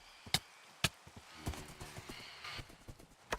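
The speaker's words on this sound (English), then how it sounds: "We're gonna ride around my horse." Horse hooves clip-clopping in Minecraft as a mount is ridden, a few sharp hoof taps followed by a quicker, softer run of steps, faint and close with no talk.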